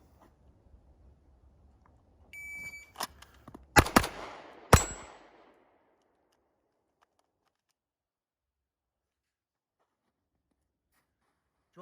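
A Sig Sauer P226 MK25 pistol dry-fired twice, giving a couple of sharp mechanical trigger clicks amid other close handling clatter, then near silence.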